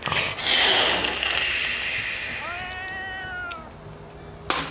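A person imitating the hiss of a feral cat: a long, breathy hiss comes first, then a short wavering cat-like cry, all close and fairly loud.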